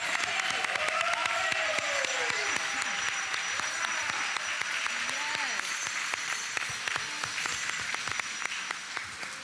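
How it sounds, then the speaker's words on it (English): Sustained applause from a room of people at a school board of education meeting honoring principals, dense steady clapping throughout with a few voices and whistles mixed in. "Let's have another round of applause"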